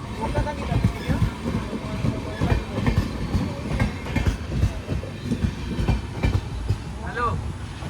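A Konkan Railway passenger train running on the track, heard from on board as a loud rhythmic clickety-clack and rumble of wheels, with voices talking over it.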